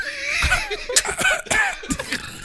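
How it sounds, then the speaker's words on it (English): A few quick, sharp coughs break through, close by, mixed with brief laughter-like bursts. "Cough."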